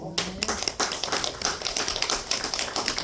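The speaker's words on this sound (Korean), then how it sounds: "그래서 감사 박수 한번 부탁드릴게요" Steady audience applause of thanks at a hospital Buddhist service, a dense patter of many hands clapping continuously at moderate level for the whole stretch.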